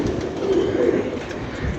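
Pet pigeons cooing close by in a pigeon-keeping setting, a steady low throaty burble running through the whole moment with no one speaking.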